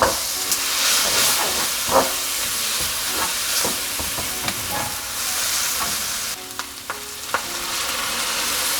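Soy sauce hitting a hot pan while cooking Korean seaweed soup (miyeokguk), giving a steady loud sizzle and hiss with scattered pops and crackles throughout, no talking.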